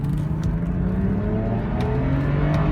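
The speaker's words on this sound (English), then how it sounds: "Sweet engine sounds." A 2009 BMW 128i convertible with a naturally aspirated six-cylinder engine pulls hard under acceleration, a steady, rising engine drone with strong low harmonics heard from the cabin, alone and sustained.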